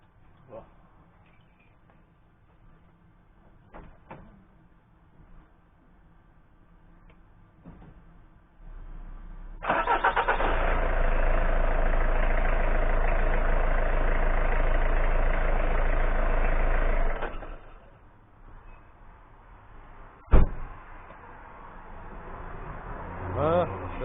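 Citroen ZX Break car engine cranking and starting after a battery and alternator test, then a steady idle that runs for several seconds before cutting off, with someone talking and clicks and clunks around it.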